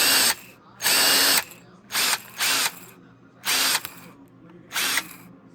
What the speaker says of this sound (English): See that blower wheel? See that fan? Watch.